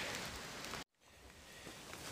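Steady rain hisses down on a hiking trail in a dense, close patter. It drops out abruptly for a split second, then resumes at the same level.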